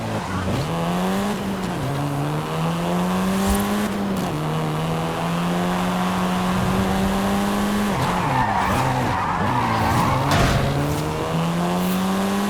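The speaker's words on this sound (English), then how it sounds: "This version is the Volkswagen Golf R, R meaning race." A Volkswagen Golf R in the Forza Horizon racing game, its engine droning loudly and steadily while tires squeal in long skids, with the engine pitch dipping and rising through gear changes.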